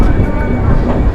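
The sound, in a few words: Kerala Sampark Kranti Express train chugging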